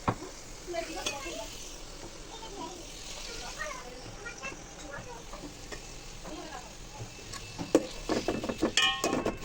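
Garlic and onion fry in a pan while being stirred, with a soft steady sizzle and occasional scraping and clinks, growing busier near the end; someone talks over the cooking.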